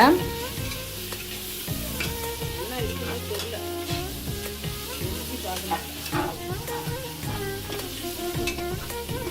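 Ginger garlic paste sautéing with fried onions in a pan for biryani on a large burner, a continuous loud sizzle with steady stirring scrapes and clinks running throughout, close up.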